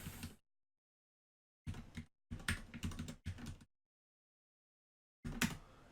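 Someone types a password for a SQL server login on a computer keyboard in short bursts of rapid, close key clicks separated by silent pauses, with one final quick burst at the end.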